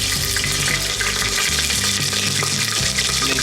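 Garlic cloves and ginger garlic paste frying in warm oil, a loud continuous close sizzle with light stirring scrapes and bubbling, steady throughout with no talking.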